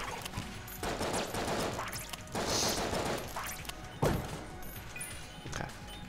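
Rapid game gunfire from Enter The Gungeon, dense bursts of shots and crashing impacts sounding continuously for several seconds, with a sharp louder hit near the end.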